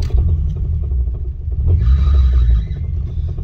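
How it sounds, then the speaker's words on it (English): A BMW E21 engine rumbles roughly in a shop, and a thin, high belt squeal rises over the loud low drone for about a second mid-clip. "got some belt squeal in there"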